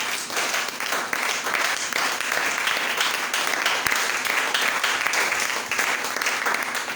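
A church congregation applauds and cheers, a dense, steady wash of clapping with voices mixed in that carries on without a break.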